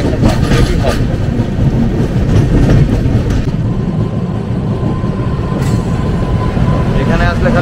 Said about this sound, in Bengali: ওই দেখুন কটক জংশন থেকে আমাদের ট্রেন ছেড়ে দিল